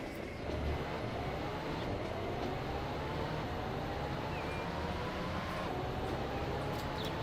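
A train in Transport Fever 2 runs steadily with a low rumble and a faint rising whine. It stays quiet and distant, with no talk over it.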